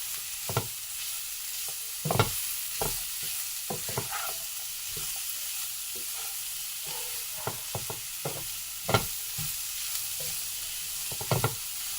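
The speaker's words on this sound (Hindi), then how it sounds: "अब इन मसालों को जो है हमें इन सब्जियों में अच्छे से पकाना है।" Vegetables and spices for a Sindhi paneer lasagna sizzle steadily in a pan while a spatula stirs and scrapes in irregular strokes, with occasional sharper clanks against the metal.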